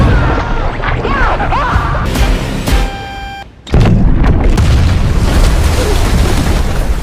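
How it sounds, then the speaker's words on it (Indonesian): A detonator sets off a blast in a shark film, a heavy boom and crash with rumbling debris, a brief drop to near quiet, then a second loud roaring burst that continues to the end. "Marcus dan Caro berusaha untuk menyelamatkan Sophia dan Adil dari ledakan itu"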